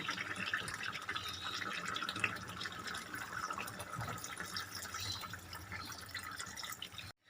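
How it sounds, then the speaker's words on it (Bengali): Water poured into a pan of browned chicken curry in a home kitchen, a faint, continuous trickling and dripping of liquid running for several seconds with no talk over it. "এবারে আমি দিয়ে দেবো অল্প পরিমাণে জল"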